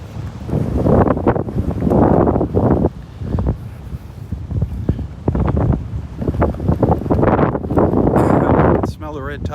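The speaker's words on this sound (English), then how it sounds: "look at how strong the wind is blowing" A strong northwest wind sweeps Delnor-Wiggins beach, roaring and buffeting loudly against the microphone in heavy gusts with short lulls between them, and a brief voice cuts in near the end.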